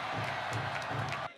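A crowd at a Korean political election rally applauds and cheers in a dense, continuous burst that cuts off abruptly at the end.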